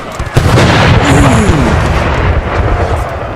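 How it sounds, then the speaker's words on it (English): Artillery fire in the Civil War video game North & South during a Battle of Antietam cornfield fight, a loud boom followed by sustained rumbling battle noise and a faint whistling tone. "deadly artillery going off"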